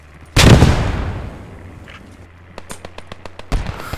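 A grenade blasts close by in the Post Scriptum war game, one heavy boom decaying over a second or two, with scattered gunshots cracking afterward and a further burst near the end.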